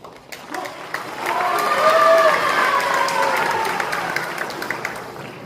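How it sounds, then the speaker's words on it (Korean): A crowd claps steadily for several seconds at a Korean War student-soldier memorial ceremony, swelling then easing, with a voice speaking over the applause. "대대장님이 가장 박수를 많이 받습니다"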